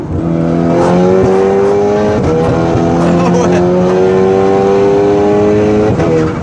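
A car engine with a Stage 3 tune drones loudly and steadily with rising revs and intake whoosh, heard from inside, with a brief spoken remark over it.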